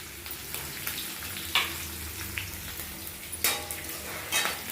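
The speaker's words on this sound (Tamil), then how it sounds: "அந்த கருவேப்பிலையும் புதினாவும் நறுக்கி வச்சுருக்கேன் பாருங்க, அது போட்டுட்டு இந்த எண்ணெயிலே நல்லா வதக்கிடலாம்" Curry leaves and mint sizzle in hot oil, a steady soft frying hiss with occasional crackling pops and stirring sounds, fairly quiet and close, with no talking.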